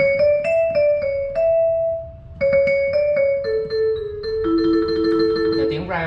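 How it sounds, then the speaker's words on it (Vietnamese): Vibraphone voice played on a Yamaha YDP163 digital piano, a run of clear ringing mallet-like notes with bright overtones, stepping down then building into a denser chord near the end, close and alone. "Đây, tiếng vibraphone là tiếng đàn giống đàn đá đó."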